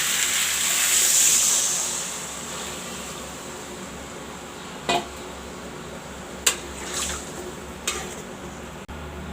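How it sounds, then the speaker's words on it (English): Water pours into a pot of egg curry with potatoes and tomatoes, a soft rushing splash that tapers off, followed by a few sharp clinks of a utensil against the pot. "Now I will add some water."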